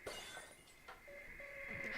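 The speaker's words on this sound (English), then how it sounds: "Broken glass." Glass breaking and shattering in an indoor home setting, with a brief crash near the start followed by faint scattered clinks and a tinkle over a steady background hum.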